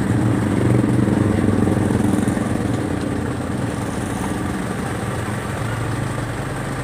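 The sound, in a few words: Isuzu Crosswind engine revving up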